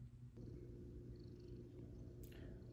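Close, quiet cat purr with a steady low rumbling rhythm, continuous throughout, with a faint brief rustle near the end.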